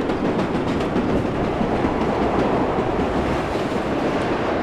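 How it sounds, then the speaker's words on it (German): A subway train in World of Subways Vol. 4 running at speed, a steady loud roar of wheels and rumble with faint rhythmic clatter, continuous and close. "Jetzt können wir den Zug natürlich mal richtig schön ausfahren."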